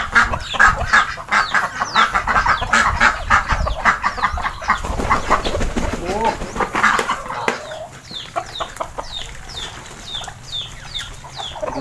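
Chickens cluck and squawk nearby in rural Laos, a busy overlapping chorus of clucks with a rooster-like call, continuing steadily throughout.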